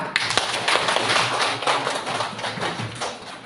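A class of schoolchildren claps after an ice cream making experiment, giving a brisk, fairly loud spatter of applause that carries on for a few seconds, with no voices standing out.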